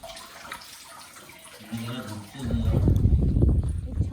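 Water pours and splashes from a natural source at a hillside fort as bottles are refilled, starting faint and swelling into a loud, steady gush close by, with someone talking over it.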